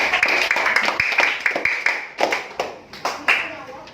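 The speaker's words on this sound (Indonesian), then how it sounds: "Tepuk tangan dulu buat kita semua sudah." Children in a classroom clap their hands in a quick burst of sharp, close claps that thin into a few separate slaps, with some voices mixed in.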